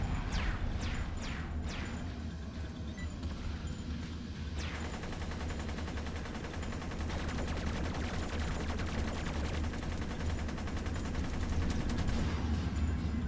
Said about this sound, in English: Let's toggle our tactical missiles just to get the fight started.